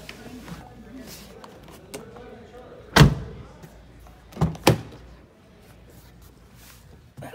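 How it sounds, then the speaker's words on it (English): Doors of a 2020 Jeep Gladiator pickup truck shut with heavy, solid thuds: one alone, then two close together, over a quiet background murmur. "Let's listen to the sound of these doors again."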